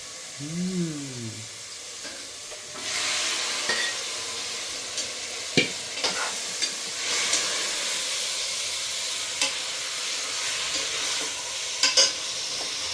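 Chicken pieces fry and get stirred in a pan for a Sunday chicken dish, giving a steady close sizzle and hiss with clinks and scrapes of the spoon throughout, and no talking.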